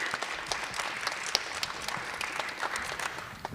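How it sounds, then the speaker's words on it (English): Applause for a student artist at a high school senior awards ceremony, steady crowd clapping throughout at a moderate, somewhat distant level. "let's give him a nice round of applause"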